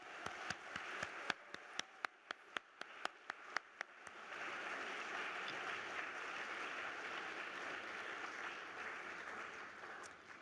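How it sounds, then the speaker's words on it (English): After a few sharp, isolated claps, an evening talks audience breaks into steady applause that swells and continues, a dense crackling wash heard from within the room. "A round of applause for our talkers and all of you for joining us this evening"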